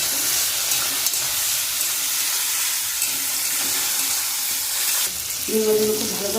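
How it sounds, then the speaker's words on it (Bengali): Shrimp fry in hot oil with garlic, salt and spices, giving a steady, dense sizzle and hiss throughout, with a brief stir or shift near the end. "চিনি মাছগুলো ভালো করে ভেজে নেব"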